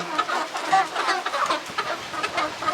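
Several chickens cluck and chatter together at close range, a busy overlapping stream of short, irregular calls with no talking.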